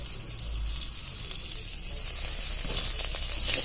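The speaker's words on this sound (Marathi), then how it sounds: "कढई तापली की त्याच्यामध्ये एक भर तूप घालून घ्यायचे" Ghee hits a hot kadai while a sweet is being made, giving a steady close sizzle and hiss that swells slightly louder toward the end, with no talk over it.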